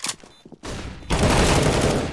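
Gunfire in a first-person shooter game: a few sharp shots at first, a brief lull, then a loud sustained burst of rapid fire that runs to the end, with no talking.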